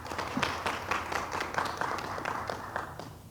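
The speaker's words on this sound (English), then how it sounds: "Huge hand of applause to them as well." Audience clapping at a spring faculty and staff assembly, a steady patter of many hands that holds at moderate volume for a few seconds.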